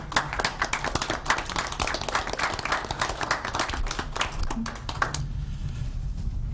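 Scattered hand clapping from a small group at a city council board meeting, applauding a citizen for bravery; sharp individual claps with a bit of talk mixed in, fading out near the end.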